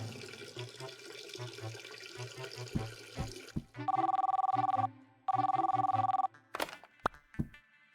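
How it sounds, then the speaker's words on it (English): Desk phone ringing in the Mindlock video game, two loud electronic rings in succession after running water from a tap, followed by a few sharp clicks. "The phone at my desk should ring now."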